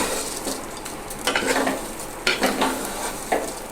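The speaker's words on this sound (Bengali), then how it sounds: "এখন একটু এইভাবে আমি চালগুলোকে ভাজতে থাকবো।" Rice for basanti polao is stir-fried in a pan, with a soft continuous sizzle and repeated scraping strokes of a spatula stirring the grains, heard up close with no talking.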